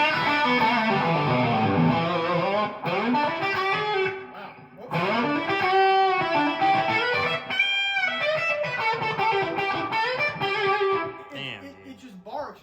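Electric guitar through a Wampler high-gain overdrive pedal, a gritty, saturated run of riffs and sustained notes with a short dip midway, loud and alone until a brief lull at the end.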